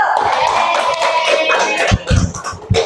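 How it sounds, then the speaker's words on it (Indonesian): Students in a classroom clap for the first group after its presentation. Sharp, close, uneven hand claps pick up toward the end, with chatter and murmuring from the room underneath. "tepuk tangan untuk nomor 1"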